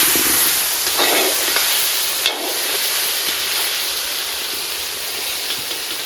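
Turmeric-and-salt-coated chicken dropped into hot mustard oil, a loud, dense frying hiss that flares briefly and then settles into a steady close sizzle, with no talking.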